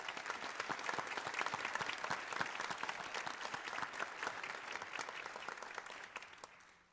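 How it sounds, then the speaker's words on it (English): An audience at a city inauguration gives sustained, fairly distant applause for police and fire honor guards and first responders, steady clapping from a large crowd that fades out at the end. "Please join me in giving them and all our first responders a nice round of applause"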